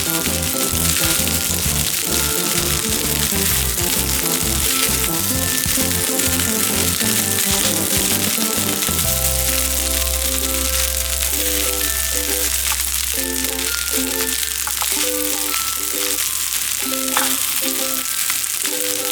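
Chicken fried rice, nasi goreng ayam, stir-fried in a pan with a steady loud sizzle throughout and scraping stirs of the spatula against the pan. The sizzle settles into a more even frying hiss in the second half, with no voices.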